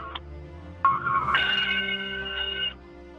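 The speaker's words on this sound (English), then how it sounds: "the shuttle undocked with the traditional ringing of the ship's bell" A ship's bell rings as Space Shuttle Discovery undocks on its final mission, STS-133. A bright, sustained metallic ringing with clear overtones starts suddenly, holds for about two seconds, then stops over a faint background hum.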